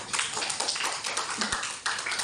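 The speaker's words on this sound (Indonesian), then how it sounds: "kasih tepuk tangan" Small group of students clapping hands during a gymnastics lesson in a classroom or hall, brisk uneven claps filling the moment, fairly close, with no one talking over them.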